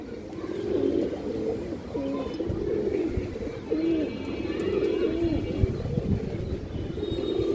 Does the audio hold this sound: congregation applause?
no